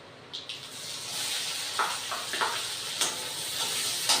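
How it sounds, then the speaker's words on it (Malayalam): Chopped onion goes into hot oil where mustard seeds have already spluttered, for a Kerala ulli puli curry. A steady broadband hiss of frying holds throughout, with scattered crackles and pops close by. "കടുക് പൊട്ടി വന്നിട്ടുണ്ട്. ഞാൻ ഉള്ളി ഇടുവാണ്."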